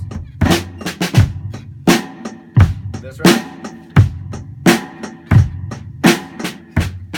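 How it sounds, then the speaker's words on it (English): A basic drum beat with one bass drum and one snare alternates in a steady, close, loud pattern, with a brief spoken word over it. "This one with just one bass drum, one snare."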